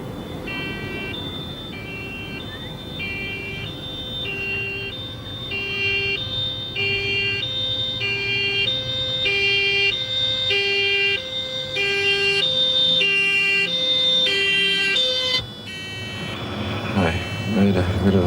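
An ambulance siren repeats a steady stepped two-tone wail for a long stretch, slowly growing louder over a low rumbling background, as if approaching.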